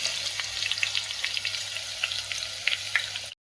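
Green chilies fry in hot oil, a steady close sizzle with scattered crackles and pops that cuts off abruptly near the end.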